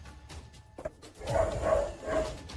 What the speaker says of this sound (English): Some of the dogs in his neighborhood are going crazy, so he zooms in on where they're barking